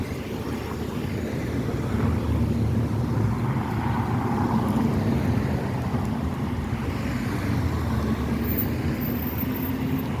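Congested car traffic at Jackson Square makes a continuous low rumble of idling and slowly moving vehicles, with steady engine drone and some wind across the microphone, and no talking.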